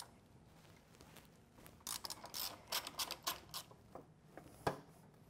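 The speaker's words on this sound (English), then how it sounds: "we're going to remove the four bolts that hold the fender to the frame" Ratchet undoing the four bolts that hold the fender to the frame of a Yamaha Star Bolt motorcycle, giving quiet, close runs of rapid clicking in several short bursts with no talking.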